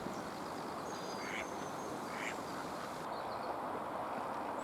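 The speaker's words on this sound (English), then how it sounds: "There are always mallard around." Mallard ducks on a pond quacking, a few distinct quacks at moderate distance over a steady outdoor background hiss, with faint bird calls in the mix.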